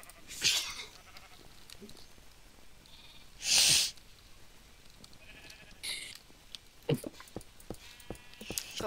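A loud, sharp sneeze bursts out alone around the middle, set among scattered quieter noises and brief sounds in an indoor gaming setting.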